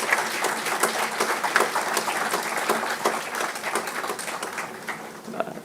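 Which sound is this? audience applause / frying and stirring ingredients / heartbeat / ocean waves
audience applause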